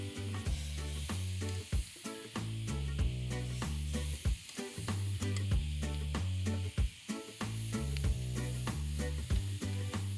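Bacon strips sizzle steadily on smoker grill grates above lump charcoal, a close, continuous crackling hiss with small pops and scrapes throughout.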